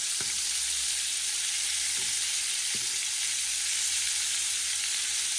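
Pork shoulder pieces sizzle steadily in a pan over medium-high heat for paella, a constant broadband fry with a few soft knocks as pieces are turned.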